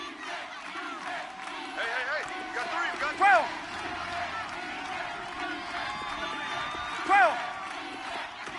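Stadium crowd noise in an American football video game swells into a sustained roar with two brief louder peaks, while a voice calls out over it.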